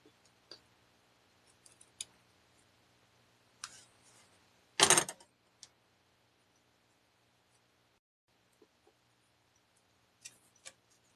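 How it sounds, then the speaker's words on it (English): Scissors snip the folded ends of craft material, a few sharp isolated clicks spread through a quiet room with one louder cluster near the middle and a couple more at the end. "just snip up these ends a little bit"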